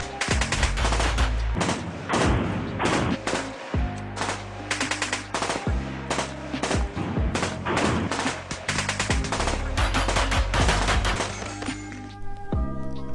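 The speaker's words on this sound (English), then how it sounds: "but shoot the gun" Gunfire at a gun range: rapid, loud shots in dense bursts and fast strings, some overlapping in quick fusillades, with echoing thumps running through the whole stretch and no talking.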